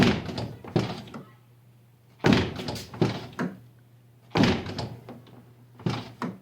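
Three solid thunks of a Toyota car door without a TRD door stabilizer shutting, evenly spaced a couple of seconds apart, close by, with some rattling and movement between them.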